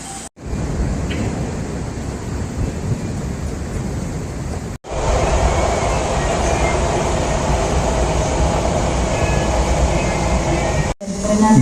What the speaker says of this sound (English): Now I'm looking for the Metrorail, which is going to take me to downtown Miami.